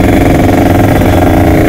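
A motorcycle engine, its intake tuned through the carburetor pilot jet settings, revs loudly and continuously up close with a rough, pulsing mid-range roar and no talk over it.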